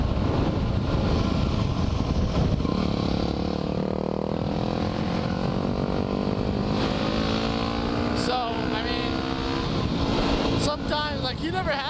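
A motorcycle engine drones steadily and loudly throughout, its pitch rising and falling with wind rush across the microphone, as the rider talks over the noise.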